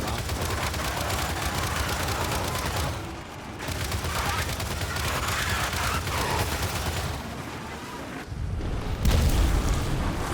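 Heavy, continuous gunfire and booming blasts in a Gears 5 battle, loud and dense throughout with short lulls and a heavier burst near the end.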